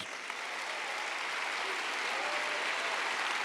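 Applause for Jesus from a church congregation during a sermon, a steady dense crowd clapping that holds evenly throughout with no speech over it.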